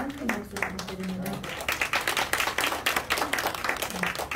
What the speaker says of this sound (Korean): 성공을 만들어주신 분들께 다시 한번 큰 박수 부탁드립니다